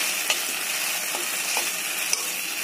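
Masala noodles in a pan with a spoon of tomato sauce stirred in, giving a steady close sizzle and frying hiss with a few soft scrapes and clicks of the spoon, no voices.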